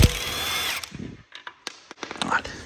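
Power tool driving a screw while a car wheel is being removed, a loud close whir that stops, followed by clanks and knocks of parts being handled.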